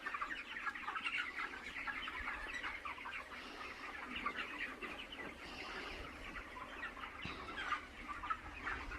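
A poultry farm shed with lighting, feeders and drinkers is filled with a dense, steady chorus of many chickens clucking, with occasional brief wing flaps.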